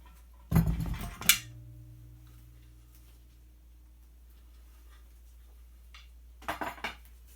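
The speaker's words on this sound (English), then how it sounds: "And now we will get them in the canner." Glass Weck jars set down into a pressure canner: a sharp cluster of clinks and clatter near the start, a short ringing tone after, then quiet until a smaller pair of clinks near the end.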